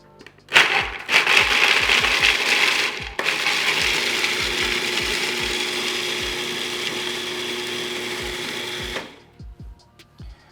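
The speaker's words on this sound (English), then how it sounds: "Essentially what we're going for here is a hazelnut butter." A food processor grinds toasted hazelnuts into a smooth nut butter, its loud motor whirring steadily with a rhythmic knocking for about eight seconds before it cuts off. No one speaks.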